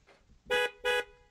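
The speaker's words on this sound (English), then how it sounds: "Horn works." Two short car horn honks in BeamNG.drive, each about a fifth of a second long and evenly spaced, loud and close. A faint murmur comes before them and a brief tone follows.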